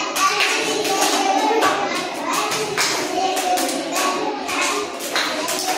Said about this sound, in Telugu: హర్షిత్ అందరు క్లాప్స్ ఇవ్వండి అన్న